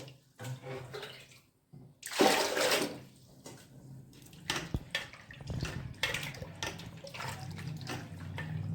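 Sabudana (sago pearls) being rinsed by hand in a bowl of water for a third wash, with close sloshing and splashing bursts, one stronger swirl near the start, then softer stirring.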